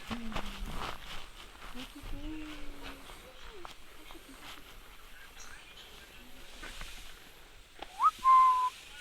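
Soft outdoor ambience at a panda base in Chengdu, China, with low murmuring voices, then a red panda's short, clear high whistle rings out near the end.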